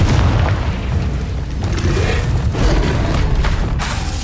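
Confringo explosive spell blasts in Hogwarts Legacy: a continuous deep booming rumble with several bursts layered over dense low-end noise, loud and close throughout.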